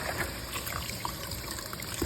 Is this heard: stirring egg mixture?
no